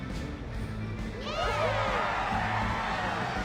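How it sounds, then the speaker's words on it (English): Crowd cheering in the video game Reverse 1999 rises from a quiet hum into a louder, sustained wash of voices partway through, over a low background tone. "The cheering grows louder and louder."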